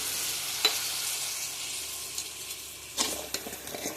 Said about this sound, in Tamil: இப்போ நான் வதக்கி விடுறேன். கொஞ்சமாக தண்ணி சேர்த்துக்கிறேன், நிறைய போட வேண்டாம்.